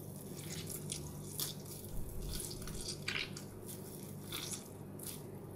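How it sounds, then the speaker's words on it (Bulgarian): Soaked bread slices squeezed by hand over a bowl, giving wet squishing and dripping sounds that continue steadily and close by, with no talking. "ги изтисквам хубаво от водата"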